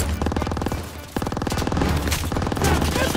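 Bursts of rapid machine gun fire rattle loudly in Call of Duty: WWII during a street fight in the Battle of Aachen, with dense repeated shots and several short pauses.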